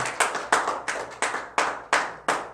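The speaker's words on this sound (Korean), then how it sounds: "박수 한번 쳐요." A church congregation claps in a Sunday sermon, with about eight distinct, fairly loud claps in an uneven, loose rhythm and no talking.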